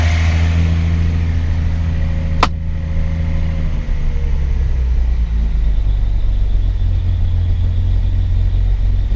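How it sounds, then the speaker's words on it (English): A 1974 Datsun 260Z engine idles with its idle being turned down, a loud, steady low rumble close by. A brief sharp click comes early, then the engine note drops and settles lower. "I'm going to cut down the idle again for you."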